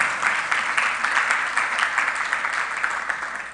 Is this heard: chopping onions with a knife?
no